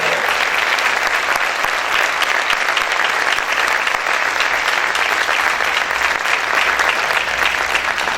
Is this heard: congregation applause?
yes